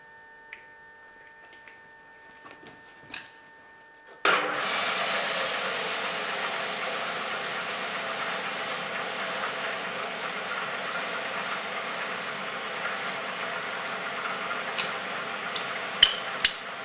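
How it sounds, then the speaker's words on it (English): Drill press boring 5mm holes in metal discs for a DIY Tesla turbine, a few faint taps followed by the machine starting up into a steady, loud whirring hum with occasional sharp clicks. "I've drilled the discs with a 5mm drill."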